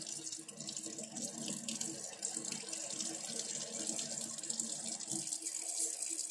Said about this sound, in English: So you want to make sure that your water is warm enough.